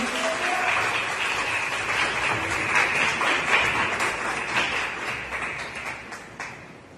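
A church congregation claps during a celebration service, a thick sustained round of applause with a few sharper taps standing out, easing off slightly toward the end.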